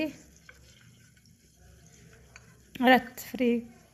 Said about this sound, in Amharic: ከታትፌ ያዘጋጀው ሽንኩርት ከዛ በደንብ ብራውን እስከሚሆን ድረስ እንጠብሰዋለን ማለት ነው።